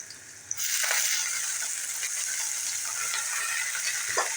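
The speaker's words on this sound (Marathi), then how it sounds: "आता आपण याच्यात पालक घालूया" Spinach dropped into a hot pan of cooking vegetables brings a sudden bump and then a loud, continuous hiss and sizzle of frying, with faint stirring scrapes and no voices.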